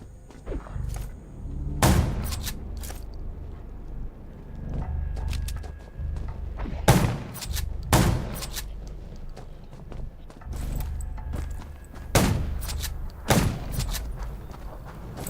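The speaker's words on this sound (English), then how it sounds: "Gunshots will attract more." In the video game Undawn, several sharp, loud gunshots at irregular intervals, spaced a second or more apart, over a low rumbling background.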